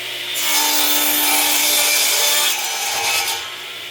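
Steady, close rasping strokes of a saw cutting wood pieces for a foot stool, running continuously for a few seconds and then easing off, with no talking.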